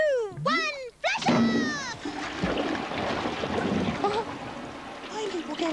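A toilet flushes with a rushing gurgle of water lasting a couple of seconds. Squeaky, cartoonish voices come just before it, and people talk over the draining water afterwards.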